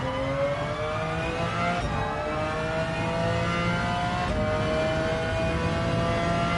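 A McLaren F1 GTR engine in Gran Turismo 7 at Le Mans holds a loud, steady high-pitched drone, its pitch climbing through the gears with brief dips at two upshifts, no voices over it.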